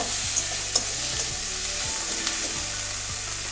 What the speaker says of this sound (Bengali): এবারে আদা রসুনের পেস্টটা দিয়ে দিচ্ছি